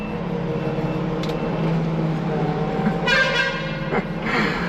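Vehicle horn resembling an Indian lorry horn, sounding a few short honks in a wet outdoor setting amid steady background noise.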